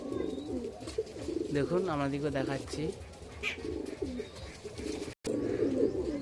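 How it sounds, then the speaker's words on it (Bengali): Madras pigeons at a home loft in Mecheda, Purba Medinipur, coo in low, rolling, throaty calls nearby, while someone talks over them for much of the time. "পাশের কবুতর দেখাচ্ছি।"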